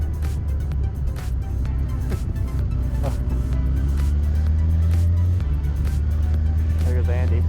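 Yamaha R6 superbike engine droning and revving steadily as the rear wheel churns through beach sand, a loud continuous motor tone throughout with people talking over it.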